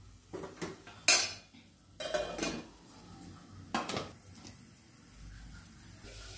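A lid and metal pan clatter close by while a wild tamarind leaf vegetable cooks, a few sharp clanks and scrapes separated by quiet pauses.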